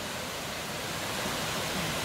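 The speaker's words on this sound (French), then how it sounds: "Là on voit une cascade." A waterfall pours steadily as a dense, even rush of water, broad and continuous throughout with no voices.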